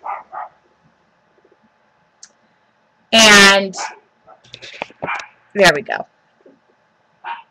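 A small dog barks once sharply and loudly at close range, with some clicking nearby and someone talking before and after.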